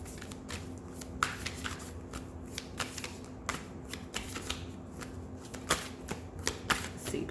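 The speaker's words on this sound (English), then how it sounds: "Let me see if I can get a good shuffle." Tarot cards being shuffled by hand in a quiet room, a steady run of soft riffling and slapping bursts close to the listener, with no talk.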